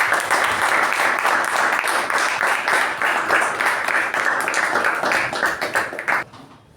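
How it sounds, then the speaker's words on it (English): Audience applause for a Toastmasters speaker at a club meeting, a dense, steady clapping from a room full of people that carries on loudly for several seconds before cutting off abruptly near the end. "Let's give us a huge round of applause for Toastmasters Saketh"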